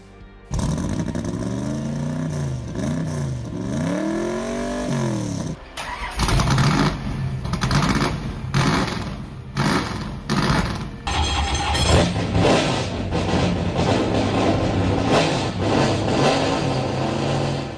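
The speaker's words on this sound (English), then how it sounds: "start your engines" Car engines fire up and rev repeatedly, rising and falling in pitch, then several engines roar together loudly and continuously.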